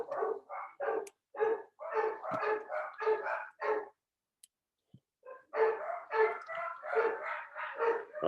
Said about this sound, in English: now I got to find out why they're barking